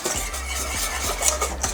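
A whisk or spoon mixes fruit purée with a gelling agent in a saucepan, giving a continuous close scraping and stirring sound with quick rhythmic strokes against the pan.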